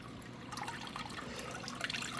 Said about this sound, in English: I could take this glass and I could pour it over the plant like this